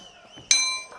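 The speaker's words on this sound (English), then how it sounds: "And there goes the bell." Ringing metallic clang of a boxing bell marking the end of the final round at an IBA 2025 men's 51kg quarterfinal bout, one sharp strike that rings out and slowly decays over quiet arena ambience.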